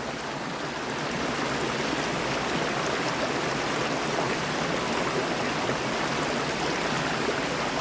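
Creek water rushes beside a slippery hiking trail on Darwin's Walk near Sydney, a steady, loud, broadband flowing roar that continues unbroken with no talk over it.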